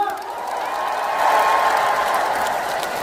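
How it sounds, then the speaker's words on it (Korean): A crowd at an outdoor festival concert claps and cheers, with sustained applause and raised voices swelling midway and then holding steady. "다시 한번 박수와 함성!"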